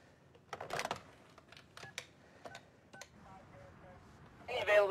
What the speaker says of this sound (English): Go ahead and pick up the phone.